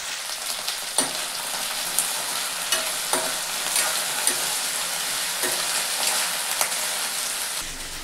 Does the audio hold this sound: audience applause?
no